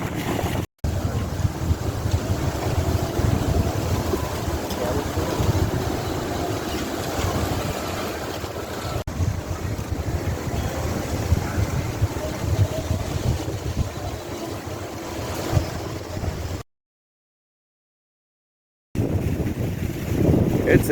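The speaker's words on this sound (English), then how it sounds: "It's a bit chilly and very, very windy on the top, as you can hear." Heavy, chilly wind on the hilltop of Mirador de la Cruz in Ataco roars across the microphone in a constant, blustery rush, with a brief silent gap near the end before the gusting resumes.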